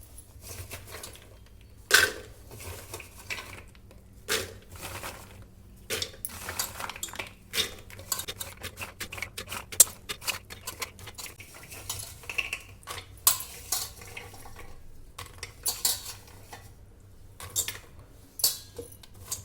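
Raw groundnuts in their shells are tipped into a pressure cooker, giving scattered clattering and clinking against metal with a few sharper knocks over about twenty seconds, close by and fairly quiet.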